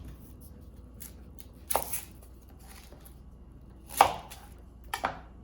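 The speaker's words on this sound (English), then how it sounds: "So let us start by chopping the onions first." A knife chops onions on a cutting board in a few sharp, separate strokes, close and clear against a quiet background.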